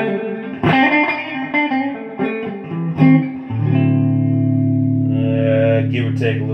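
An electric guitar plays a short run of notes, then rings out on a sustained chord through a Nocturne BS 301 Mystery Brain pedal and amp, colored by effects, echo on and washed in reverb.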